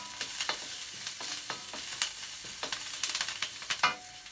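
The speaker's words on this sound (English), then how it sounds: "I'm going to add my spring onions and a sizzle along with my garlic, and I'm going to give that a quick stir" Spring onions and garlic sizzle steadily in a hot wok while being stirred, a dense, close frying hiss broken by repeated scraping and clinking strokes.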